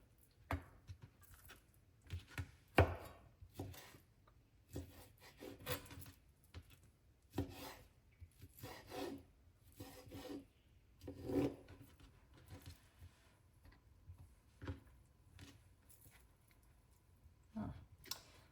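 Bacon being sliced and cut into small pieces with a knife on a board: irregular, soft rasping strokes and chopping taps in short bursts separated by quiet pauses, close and fairly faint.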